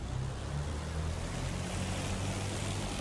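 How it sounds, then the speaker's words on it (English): Twin engines of a de Havilland Mosquito in DCS run up to about 2000 RPM, a steady low droning roar with a faint rising harmonic, constant and fairly quiet. "we're going to throttle up to, let's say, 2000 RPM just for a couple of seconds to burn off the accumulated lead from the spark plugs"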